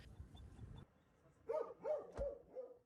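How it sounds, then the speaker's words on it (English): Several barks from Bulgarian Red Cross search and rescue dogs, trained to find earthquake survivors, come in a short run of four separate calls after a stretch of low rumbling background noise, moderately close and with no talking over them. "5 canine search specialists, dogs trained to sniff out survivors among the earthquake's devastation"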